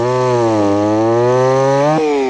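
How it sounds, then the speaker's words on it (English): A chainsaw carving wood runs at a loud, steady high buzz close by, its pitch sagging slightly under load and then jumping back up near the end, with no voices over it. "I make them all with a chainsaw"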